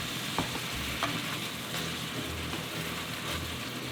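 Sauce boiling and thickening in a hot pan after a chicken breast is cooked, a dense continuous sizzle and bubbling close up with a few soft stirring clicks, no voices.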